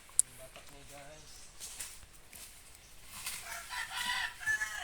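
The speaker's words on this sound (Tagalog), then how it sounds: "May manok guys." A rooster crowing nearby, a short harmonic call early on, followed by rustling and indistinct activity at a low level.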